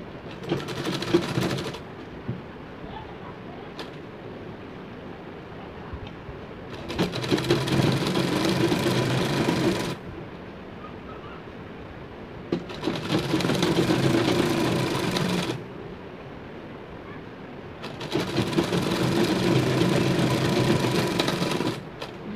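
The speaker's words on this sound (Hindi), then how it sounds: "उसके बाद हम इधर की साइड से भी सिलाई चला लेंगे" Sewing machine stitching the hem of a fabric pillow cover, steady mechanical whirring in four long runs separated by short pauses, close and fairly loud.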